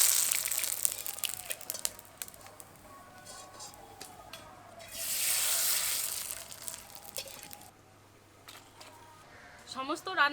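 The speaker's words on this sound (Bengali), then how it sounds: "এই পাঁপড়গুলো এখন ভেজে নেব" Homemade rice papad sizzles and crackles in hot oil, a steady frying hiss that swells into a loud burst midway before settling, with a voice talking over it.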